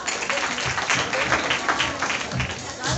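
Applause from an audience at a performance by blind students, a steady burst of clapping lasting about three seconds with crowd murmur mixed in.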